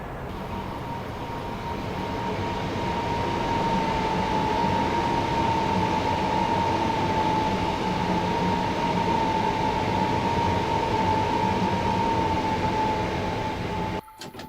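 A Class 465 electric multiple unit pulls away from Herne Hill station on the Orpington to London Victoria route in Train Simulator 2016, with a steady, loud motor whine holding one pitch and a constant rumble throughout.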